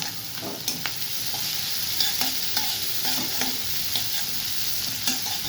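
Onions fry in hot oil with a steady, dense sizzle, and soft ladle scrapes and taps recur every half second or so.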